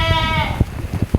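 A baby goat bleats in a barn, a wavering high cry followed by a few short, softer bleats close by.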